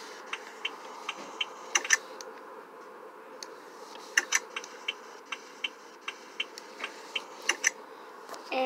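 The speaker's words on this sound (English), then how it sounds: "Turn indicators." Turn indicators clicking on a car in a video game, a regular series of light, quiet ticks at a steady pace over a soft background hum, with no talking.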